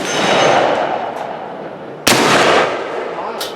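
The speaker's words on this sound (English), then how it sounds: "Well, that thing sounds like a monster. That's your Dragoon there, Colt's" A single loud, close gunshot from a Colt Dragoon black-powder revolver at a Victorian rifleman shoot in Bowling Green, Kentucky, a sharp crack followed by a rolling echo, with a busy outdoor background beforehand.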